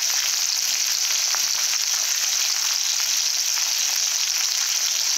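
Ground turmeric goes into hot oil, producing a steady, close, bright sizzle and hiss that holds evenly with faint crackles and no talking.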